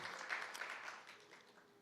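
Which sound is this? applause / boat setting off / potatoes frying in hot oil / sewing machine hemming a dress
applause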